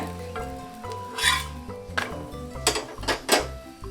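Pumpkin chapati cooking with oil on a hot tawa, soft sizzling broken by repeated scraping and clinking of a utensil against the pan, close and busy.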